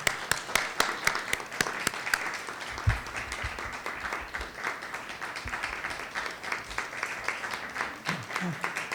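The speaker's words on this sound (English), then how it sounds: "Let's give him a hand." An audience at a poetry reading series applauds to welcome a poet, a dense, steady patter of many hands clapping throughout, with a voice speaking over the clapping.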